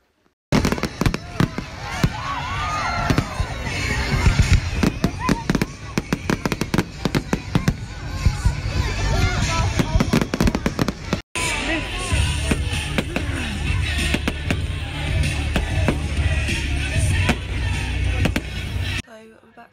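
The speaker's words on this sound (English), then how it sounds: "I didn't really vlog much apart from the fireworks because it was just really loud" Dense, continuous bursts of fireworks in London crackling and popping loudly for many seconds, with rapid sharp bangs, briefly pausing midway, and voices mixed into the din.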